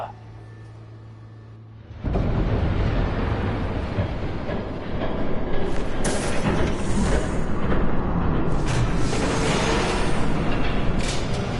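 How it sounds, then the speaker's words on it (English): A train approaches in the Batman Telltale Series video game. A quiet scene gives way to a sudden loud, continuous rumble and clatter of rail cars that holds steady and grows harsher, with no voices. "There's a train coming."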